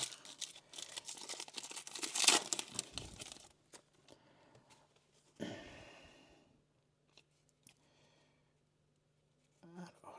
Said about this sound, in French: Je galère un peu à ouvrir ce pack, désolé.